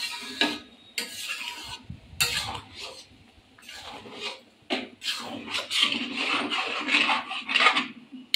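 A spoon scraping and stirring khichuri in a pot, with irregular rasping strokes in bursts and short pauses between, close by and moderately loud over a faint low background.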